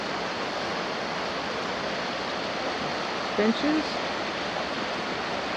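Creek water falls into a swimming area at Fillmore Glen State Park near Moravia, New York, heard as a constant, hissing rush. A voice speaks briefly over it.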